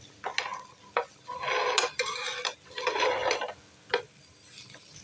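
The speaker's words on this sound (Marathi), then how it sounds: "हे बघा आता अशा उलटी करून घ्यायची आपण" Bitter gourd pieces being flipped over in a frying pan with a spatula, giving bursts of scraping and clattering metal against the pan between quieter moments, close and fairly loud with no talking.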